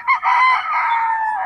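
A five-year-old gamecock rooster crows once, loud and close, a bright sustained call that holds steady and slowly fades over about a second and a half.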